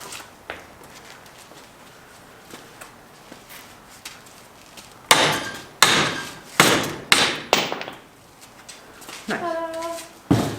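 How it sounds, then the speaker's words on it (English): A sledgehammer strikes metal parts while a hydraulic e-brake is built for a Volvo 960: a few faint knocks, then a run of loud, ringing blows spaced about a second apart. "the sledgehammer right there"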